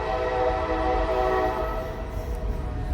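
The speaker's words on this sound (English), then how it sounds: "Sorry, the train." A train passes close by with a sustained, loud horn blast holding steady throughout, layered over a broad rumble of rail noise.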